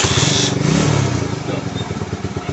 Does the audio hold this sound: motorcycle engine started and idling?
yes